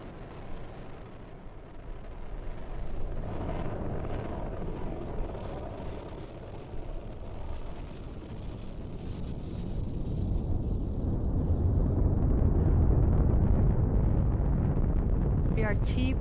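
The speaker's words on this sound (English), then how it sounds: "we are currently firing all 9 of those M1D engines" Nine Merlin 1D engines of a SpaceX Falcon 9 carrying NASA's SPHEREx and PUNCH satellites roar in a continuous, broad rumble that grows louder and fuller toward the end, with wind buffeting the microphone.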